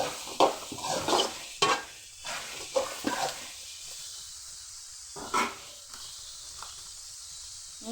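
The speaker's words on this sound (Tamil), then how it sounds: "கலக்கி விட்டுக்கலாம் ஃப்ரெண்ட்ஸ்." Carrots, beans and capsicum fry in a pan as a spoon scrapes and stirs in several quick strokes, each bringing a burst of sizzle over a quieter background crackle.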